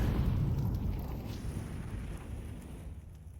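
An HE grenade blast in a Counter-Strike match on the Inferno map rolls out as a deep, rumbling boom that fades gradually over a few seconds.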